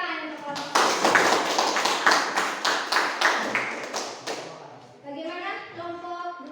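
A classroom of schoolchildren claps a fast, rhythmic patterned clap in unison to honour a group during an Indonesian language lesson. The crisp, evenly spaced beats are loud and close, then stop, and young voices chatter afterward.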